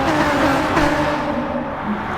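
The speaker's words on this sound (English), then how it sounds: "that is such a massive pack of cars driving by as you hear them roar by" Dense pack of race cars in a GT Sport NASCAR-style league race roaring past together, a loud sustained engine drone that swells slightly and holds steady throughout.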